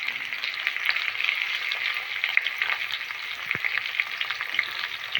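Small onions sizzle and fry in a pan with chili powder for a tamarind kuzhambu, a steady close hiss with occasional stirring scrapes and taps.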